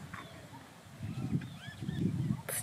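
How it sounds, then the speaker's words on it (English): Birds call outdoors near a dam in Chiang Mai, with a few short chirps and whistles coming at a moderate distance over a soft background murmur. "Just birds."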